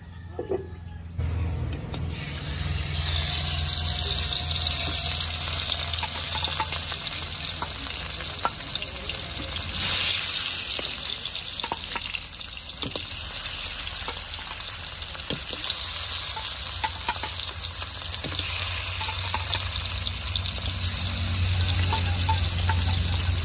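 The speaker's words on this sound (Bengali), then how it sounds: "তেল তো ভালো করে গরম হয়ে গেছে, এবার মাছগুলো তেলে ছেড়ে দেব।" Pieces of katla fish fry in hot oil with a loud, continuous sizzle that begins sharply after a moment of quiet and crackles on steadily, with occasional stirring clatter.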